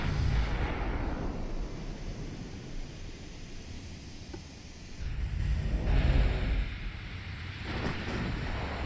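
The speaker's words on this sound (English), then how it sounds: "there are some enemy shots landing nearby, but nothing of significant damage" Naval gunfire from Ultimate Admiral: Dreadnoughts brings distant shells landing as dull booming bursts over a constant rushing roar, with a louder surge midway and no voices.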